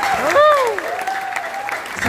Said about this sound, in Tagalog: Malakas ang palakpak sa Panginoon.